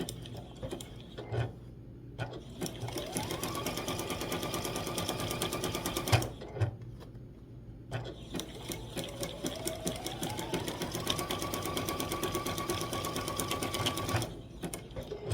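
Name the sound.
sewing machine zigzag stitching quilt block appliqué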